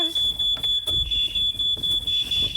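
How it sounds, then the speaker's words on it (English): A high-pitched smoke alarm beeps in repeated bursts after baking set it off, while people talk hurriedly close by. "smoke alarms"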